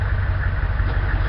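Engine of an enemy technical vehicle in the video game Project Reality, a loud steady low rumble with no talking.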